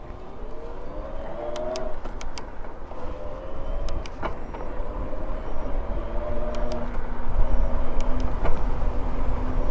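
A Biktrix Stunner X e-bike in gear 9 runs on throttle alone at top speed, its motor whine rising and falling in pitch over steady rushing wind and road noise.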